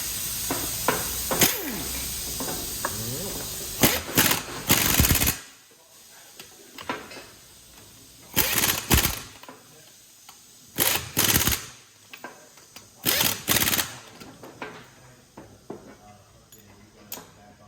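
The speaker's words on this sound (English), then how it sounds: "last step is just torquing the wheels" A power tool torques the wheels of a Jeep Compass, firing several short loud bursts of rattling impact hammering close by, separated by quieter gaps.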